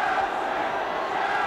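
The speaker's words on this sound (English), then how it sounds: "there's the Chelsea crowd" Chelsea supporters roar after a goal against Watford in an FA Cup semi-final, a dense, sustained stadium crowd din heard from a distance with no break.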